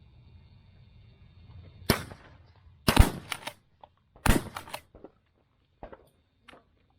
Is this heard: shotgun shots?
yes